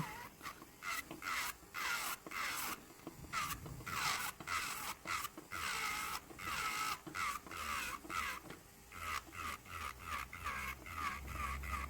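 An electric nail drill fitted with a coarse-grit bit grinds gel polish off a nail, giving a steady whirring with repeated rasping bursts as the bit passes back and forth, close and fairly loud, with no voices.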